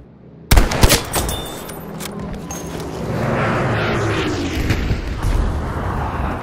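Gunfire in the World War II shooter Battlefield V: a sudden loud burst of shots and impacts, followed by scattered rattling fire and a rumbling, roaring battlefield din.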